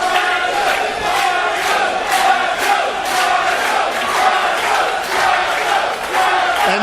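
A wrestling crowd at a Super Indy 17 independent show cheers and chants steadily, with rhythmic surges of shouting filling the hall throughout.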